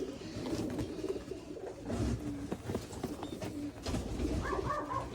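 Young pigeons coo in soft, repeated throaty bursts, close by and fairly quiet, with a few brief higher calls near the end and no speech.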